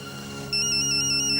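A phone rings with a bright, repeating electronic ringtone that starts abruptly and holds steady, fairly loud and close.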